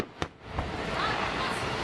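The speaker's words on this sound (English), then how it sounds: "I'm still gonna watch the fireworks." Fourth of July fireworks give a sharp bang, then a second pop, then a sustained crackling, sizzling burst. The sound is moderately distant and fills the rest of the moment.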